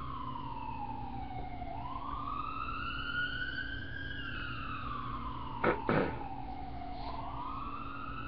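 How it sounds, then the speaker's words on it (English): An ambulance siren on a road wails in slow rising and falling sweeps over a low traffic rumble, moderately distant and continuous, with a couple of short clunks partway through. "Ambulance running up and down the road, you know."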